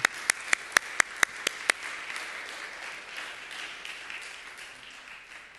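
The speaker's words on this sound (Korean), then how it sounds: "우리 감사의 마음으로 선생님들께 우리 감사의 박수 한번 보냈으면 좋겠습니다" A church congregation applauds its teachers after a Sunday service in Graz, Austria: a few sharp opening claps, then a steady wash of many hands clapping together that slowly fades out.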